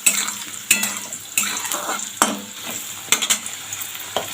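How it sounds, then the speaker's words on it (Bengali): Potatoes stir-fried in hot oil in a pan with five-spice, a continuous sizzle broken by regular scraping strokes of a spatula against the metal, close up and with no speech. "আলুটা একটু ভাজা ভাজা করে নেব।"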